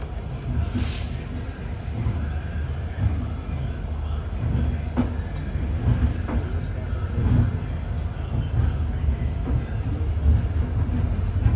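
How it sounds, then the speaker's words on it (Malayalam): Bengaluru–Mangaluru Weekly Express running toward Chikkabanavara station, a steady low rumble of wheels and carriage throughout, with faint rail clicks and brief squeals heard from inside the general class coach. "ട്രെയിനിപ്പോൾ ചിക്കബണാവര റെയിൽവേ സ്റ്റേഷനിലേക്ക് എത്തിയിരിക്കുകയാണ്"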